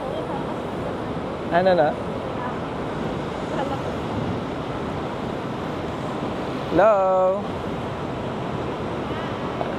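Night wind blowing outdoors during a walk in BGC, a steady rushing roar buffeting the microphone throughout, with brief voices speaking at two points.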